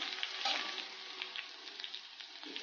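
Curry leaves sizzle and crackle in hot oil in a pan while tapioca upma is being made, a steady close frying hiss with scattered small pops and no talking.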